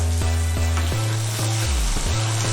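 Fried yam and potato pieces sizzle loudly in a pan of dry spices over a low flame, with several spoon scrapes and knocks against the pan breaking through the steady frying hiss.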